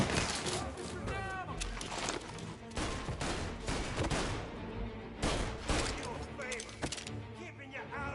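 Rapid gunfire from the video game Mafia, a dense fusillade of overlapping shots and bursts over roughly eight seconds, loud and continuous, with shouting voices mixed in.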